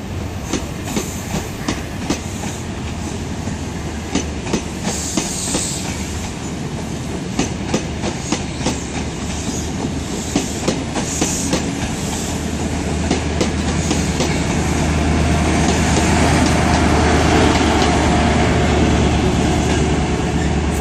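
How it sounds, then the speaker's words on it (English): A CrossCountry HST led by power car 43321 passes at Exeter St David's station, its wheels clicking rhythmically over rail joints as a heavy engine rumble builds toward the end, loud and close with no talking. "You can get a cross-country HST on a Sunday."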